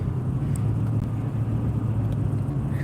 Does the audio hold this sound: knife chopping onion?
no